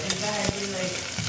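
Garlic frying in a pan and being stirred, a steady close sizzle with scraping stir strokes running throughout.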